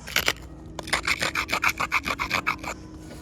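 An elongated sandstone abrader rubbed against raw root beer chert: a short scrape, a pause, then about a dozen quick, even, rasping strokes up close.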